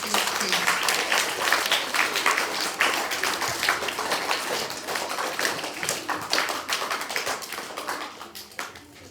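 An assembly hall of schoolchildren claps in one long, steady round of applause, a dense, even patter that holds for several seconds before slowly thinning out.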